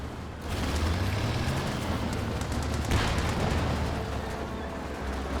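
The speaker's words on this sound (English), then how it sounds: "Churchill firing away." A Churchill tank fires its gun in a Company of Heroes 2 match, one deep booming shot rising out of a steady battlefield rumble, with scattered smaller crackles and impacts around it.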